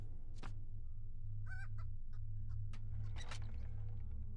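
Chickens clucking in the video game RuneScape 3, a few short bird calls and honk-like clucks spaced over a steady low game ambience hum.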